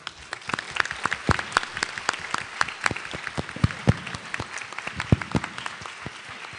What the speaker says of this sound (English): I think we have to have a round of applause for our program director